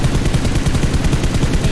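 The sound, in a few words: gunfire in the video game PUBG, Erangel map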